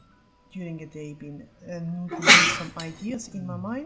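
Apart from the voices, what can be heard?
sneeze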